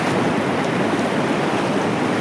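Floodwater rising and rushing after heavy rain at Mahuva makes a loud, steady roar that fills the whole clip with unbroken broadband rushing and no voices.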